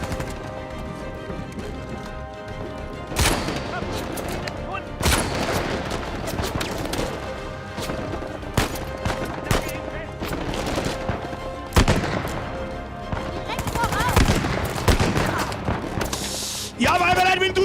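Gunfire in the video game Uncharted 4: repeated sharp shots and bursts scattered irregularly over a busy bed of game music and ambience, fairly loud throughout.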